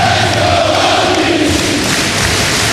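Arena crowd cheering during a college basketball game in NCAA 2007, Boston College against Virginia Tech: a loud, dense, steady roar with no breaks, filling the whole moment.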